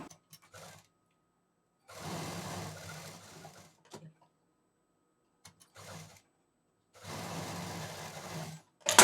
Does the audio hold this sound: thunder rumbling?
no